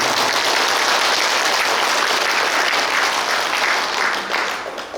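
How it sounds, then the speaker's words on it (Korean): An audience at a temple anniversary academic conference breaks into sustained applause, a dense, loud wash of clapping that holds steady before tapering off at the end. "인천 불교 사업연합회 전 회장이신 어두가 선생님께도 감사의 박수를 부탁드리겠습니다."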